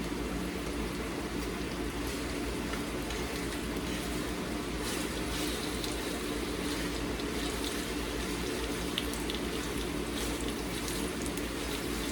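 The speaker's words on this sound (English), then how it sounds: "let me drain a little bit of this out" Water pours steadily from a cooking pot of meat into a kitchen sink, a continuous broadband rush and splash at close range with no talk over it.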